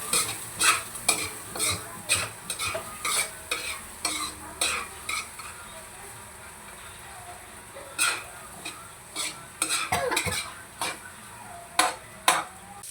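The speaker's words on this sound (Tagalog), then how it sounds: "Kasabay na natin ang ating bawang. Then, isasabay na rin natin ang ating carrots. I-mix lang natin siya." Garlic and carrots stir-fried in a pan, with repeated scraping stirs of a utensil against the pan in bursts over a steady low sizzle, pausing briefly midway, no talking.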